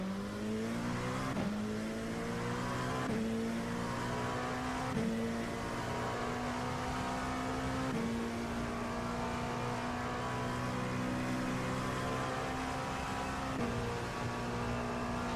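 Several GT3 race cars in the iRacing sim racing game run close together, engines revving and shifting steadily with sharp upshifts at regular intervals, loud and continuous with no talking.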